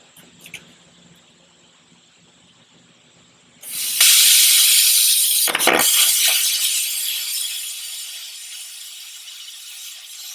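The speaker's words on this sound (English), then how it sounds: "Let's see if we can cut some dirty painted metal." A cheap Amazon plasma cutter cuts dirty painted metal. A quiet hum gives way to a loud, steady roaring hiss that continues to the end with one brief break.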